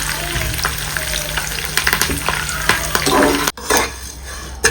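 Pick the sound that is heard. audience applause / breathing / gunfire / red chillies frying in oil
red chillies frying in oil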